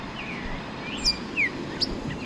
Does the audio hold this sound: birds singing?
yes